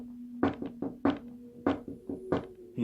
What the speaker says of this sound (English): Knocking on that door